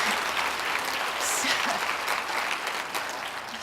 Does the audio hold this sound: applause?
yes